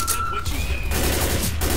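Bursts of gunfire from Left 4 Dead's shooting at the witch, dense and loud throughout, with a whistling tone over the shots in the first half.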